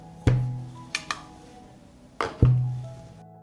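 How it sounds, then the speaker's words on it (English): Glass jars of blueberries are set down into a cooking pot lined with a cloth, giving four sharp clinks and thunks, two of them ringing on briefly, in an otherwise quiet kitchen. "I put the jars in the pot."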